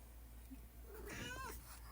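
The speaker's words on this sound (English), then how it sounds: "I know you're not on here to listen to cats." A cat meows once in a drawn-out, wavering call indoors, fairly faint against a low steady background hum.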